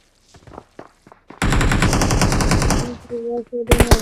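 Rapid automatic gunfire in the mobile battle royale game PUBG Mobile: a loud sustained burst of about a second and a half, then scattered sharper shots, with brief voices and game sounds around it.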